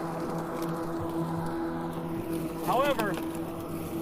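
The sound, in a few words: GreenWorks Twin Force electric lawn mower running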